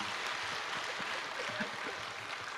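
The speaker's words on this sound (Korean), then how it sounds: "우리 감사의 박수 한번 하겠습니다." A church congregation applauds its pastors at an Easter service, a soft, steady wash of many hands clapping in a large room, faint and continuous.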